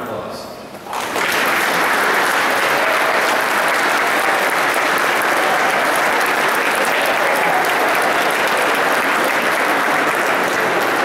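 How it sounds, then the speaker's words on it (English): Sustained, loud applause from a large crowd at a high school commencement baccalaureate, honoring the graduates' parents, beginning after a brief quieter moment and holding steady and dense throughout. "give them a round of applause"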